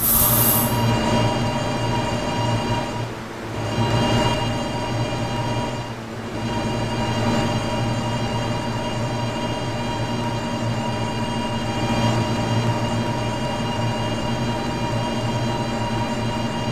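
An R160B subway train runs on the Fifth Avenue lines in Roblox PTA Subway. The motor hums steadily, the wheels squeal and a few brief dips break the sound, with no voices.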